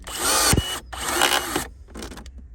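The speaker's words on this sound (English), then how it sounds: "pull the trigger, and it pops the rivet" A pneumatic rivet gun whirs through a couple of short bursts while setting a rivet in a custom switch panel, with a sharp pop near the start, heard up close.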